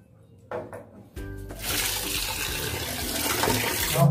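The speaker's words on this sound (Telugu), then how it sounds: "ముందుగా చికెన్ అయితే వాష్ చేసుకుందాం. వాటర్లో వాష్ చేసుకుందాం." Running tap water gushes into a sink as broiler chicken is washed in a bachelor's room, beginning with a few clunks and splashes and then settling into a steady close rushing stream.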